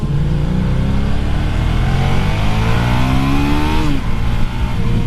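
Ducati Panigale 959 sport motorcycle on a test ride, its engine revving loud and close with rising and falling pitch sweeps, a steady hard roar throughout and no talking.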